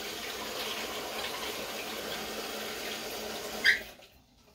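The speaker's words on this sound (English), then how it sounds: "I think I need a little more water in here, so I'll put a little water" Water pours from a tap or container into a Shein portable washing machine, a soft continuous rushing splash, fairly quiet, ending with a brief clink before falling silent.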